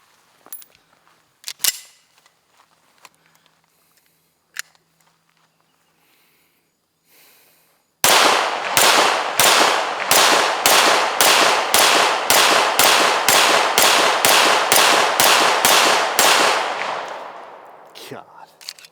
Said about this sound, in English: Take a few shots with that thing, man.